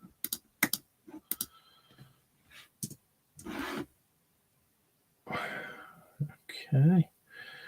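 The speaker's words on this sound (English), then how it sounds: "And I'll just type that up." Typing on a computer keyboard: a few bursts of quick, light key clicks spaced across the stretch, with soft breathy noises and quiet handling sounds between them.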